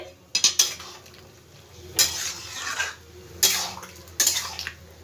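Mixed vegetables being stirred with a little ghee in a pan, several separate bursts of spoon scraping and clinking against the metal over a faint low sizzle, close and without speech.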